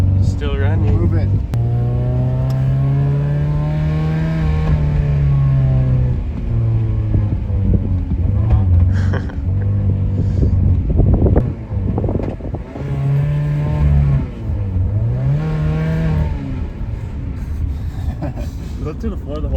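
A car engine held floored while running on Dr Pepper and barbecue sauce, a steady loud drone with shifting pitch through the whole stretch, people talking over it.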